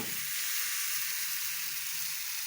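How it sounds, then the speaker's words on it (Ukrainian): A bright burst of sizzling and hissing as pancake batter hits a hot frying pan, steady and close for a couple of seconds. "Отак гарно і наливаю на сковорідку."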